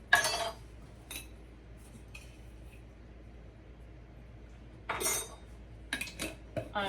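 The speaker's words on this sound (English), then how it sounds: "And I'm going to whisk that together to make it nice and thick." A whisk strikes a bowl while mixing milk and heavy cream, heard as short metallic clinking bursts at the start and again near the end, separated by a quiet stretch.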